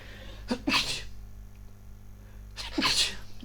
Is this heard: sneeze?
yes